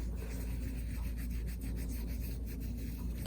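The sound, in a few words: wipe with saddle soap rubbing Louis Vuitton bag leather strap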